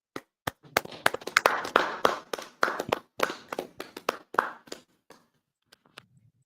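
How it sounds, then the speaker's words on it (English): Scattered hand claps from a small group in a class setting build into a loose, uneven burst of clapping, then thin out to a few isolated claps before stopping. "Y'all clap it up, Baba Kushar."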